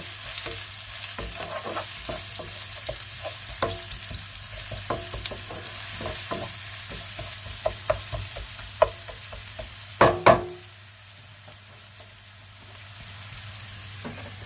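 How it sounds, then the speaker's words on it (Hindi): Onions sauté in a little oil in a pan for a cheesy vegetable sandwich, giving a soft steady sizzle broken by scattered stirring taps and a couple of louder clatters near the end. "ये थोड़ा सा तेल डाला, इसमें थोड़े से प्याज डाले, इनको सौते किया।"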